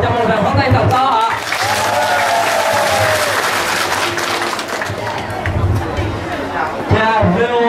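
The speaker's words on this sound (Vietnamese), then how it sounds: "Xin cộng đồng cho một tràng pháo tay thật to ạ." Audience applause at a community gathering, dense clapping with some cheering and crowd chatter, sustained for several seconds at close range.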